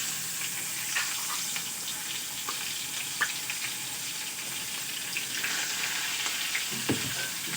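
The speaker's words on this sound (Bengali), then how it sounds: "এবার ওই তেলের মধ্যেই দিয়ে দেব পেঁয়াজ কুচি আর লঙ্কা কুচি।" Chopped onion and green chilli frying in hot oil for a Bengali bhola fish jhal, a steady close sizzle and crackle with faint stirring clinks, no talking.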